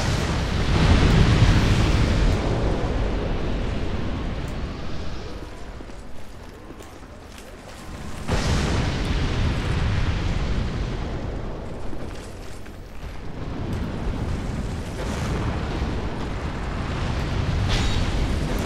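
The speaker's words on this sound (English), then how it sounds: "With some very strategic flame swathes and big crazy fireballs" Fireball spell blasts and flame attacks in Dark Souls 2 co-op erupt in heavy booming roars, one long rumbling burst fading out midway before another set of loud explosions rolls in and continues to the end.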